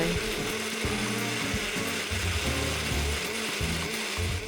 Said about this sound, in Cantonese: 放入攪拌機，放啲水打碎佢。